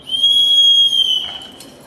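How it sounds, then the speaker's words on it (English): A whistle carved from deer antler, a Native American eagle whistle, gives one long, piercing high tone that holds steady, then drops slightly and fades with a brief trailing chirp. "this is an eagle whistle made out of an antler from a deer made by Native Americans"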